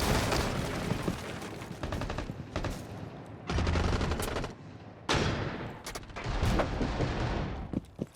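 Sustained automatic gunfire from a video game as a player sprays without controlling recoil: loud, dense rattling bursts with brief pauses between volleys.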